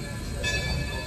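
Delaware and Hudson train from Montreal arriving at Scranton, Pennsylvania station, a short steady rumble of rolling wheels with a faint high metallic squeal coming in halfway.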